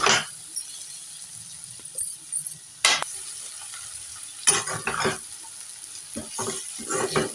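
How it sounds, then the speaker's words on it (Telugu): Bitter gourd fry stirred in a pan over low heat, a soft scraping and sizzle with a few sharper clinks of the spoon against the metal, close and fairly quiet. "కలుపుతూనే ఉండాలి"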